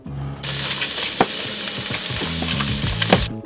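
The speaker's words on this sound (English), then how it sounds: "I'll add the garlic and my onions into my little pan and cook, sizzle" Garlic and onions sizzle loudly in a hot pan, a bright hissing burst starting abruptly, with faint clinks and stirring underneath.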